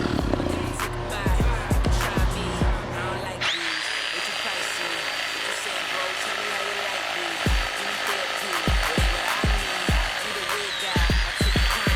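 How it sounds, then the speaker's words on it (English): A Ridgid reciprocating saw runs in a steady, loud buzzing cut from about three and a half seconds on, after a stretch of knocking and handling noises, with sharp thumps breaking through near the end. "So I'm using my rigid reciprocating saw."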